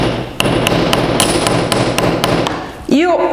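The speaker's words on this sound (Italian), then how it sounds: "utilizzo il martello sempre un po' con un orientamento direi a 45 gradi da un lato" A small hammer tapping a curved metal bracelet at an angle, giving about ten sharp, bright, evenly spaced taps close up over steady background noise, then ending in a short tonal sweep.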